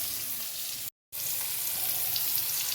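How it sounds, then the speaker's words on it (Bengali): Pointed gourd (potol) fries in a pan for a potol-shrimp curry in a home kitchen, a loud, continuous close sizzle broken by one brief moment of silence. "এখানে দেখো আমি পটল বসিয়ে দিয়েছি, পটল চিংড়ি করবো বলে।"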